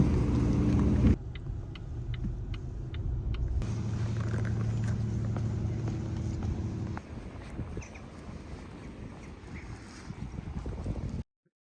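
Rental car driving on small roads in Belgium, a steady low road and engine rumble with wind noise, heard alone with no talk.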